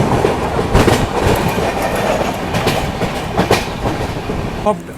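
Purushottam Superfast Express running fast near Sahibabad after overtaking another train, heard from inside a first AC coach as a loud, continuous rumble with rhythmic clickety-clack of wheels over rail joints and no talk.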